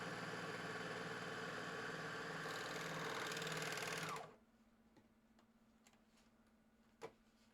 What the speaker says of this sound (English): the serger has fully attached the shoulder seam